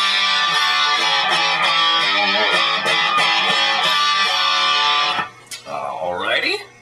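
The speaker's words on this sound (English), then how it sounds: "that's kind of like the MXR Distortion Plus" Gritty distorted electric guitar chords, a classic distortion tone like an MXR Distortion Plus through a Line 6 M9 pedal, ring out loud and steady, then a sustained note fades into quieter, wobbling feedback-like tones near the end.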